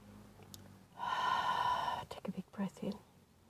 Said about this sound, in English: take a big breath in